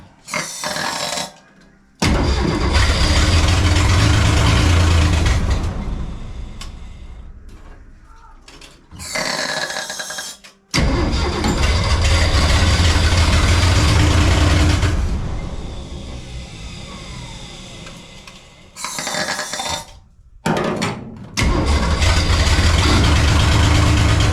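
A 1964 Ford Econoline engine, likely short of fuel, cranking and catching in loud rough bursts that run for several seconds, separated by abrupt silences between attempts.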